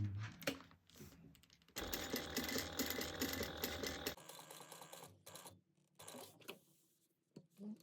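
A sewing machine stitches a bag in a fast rattling run of a couple of seconds, then slows into shorter bursts and pauses with handling clicks, with no talk.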